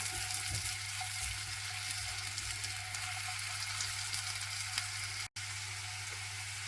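Chopped onions sizzle and fry steadily in a pan for Urdu/Hindi-style cooking, a continuous even crackle with no talking.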